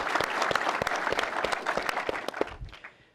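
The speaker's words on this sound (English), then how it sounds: "Join me in a round of applause for a great Secretary of the Navy." An audience at an institute's annual meeting applauds a former Secretary of the Navy, with close, dense clapping that holds steady and then thins out and fades toward the end.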